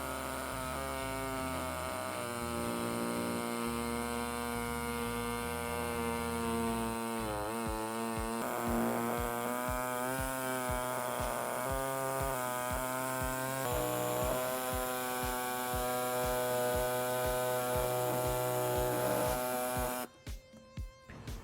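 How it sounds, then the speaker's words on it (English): A pneumatic air saw cuts through the plastic bumper of a 2018 Hyundai Elantra, a steady loud buzzing drone with a rapid reciprocating rasp that runs nearly continuously before cutting off at the end. "we'll be using the air saw to make the cut"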